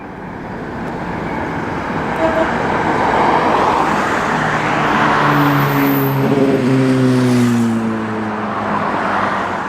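A classic Comet vehicle on a road run drives past, its engine rising from a distant rumble to a loud pass with a climbing, then falling tone before easing away.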